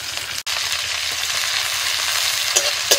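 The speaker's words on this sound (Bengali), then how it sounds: "পেঁয়াজ লঙ্কা একটু ভেজে নিয়ে এবার নোটে শাক দিয়ে দিচ্ছি।" Chopped onion and dried red chili frying in a pan for a Bengali greens dish, giving a steady close sizzle and crackle with a brief drop in the middle and a few stirring scrapes near the end.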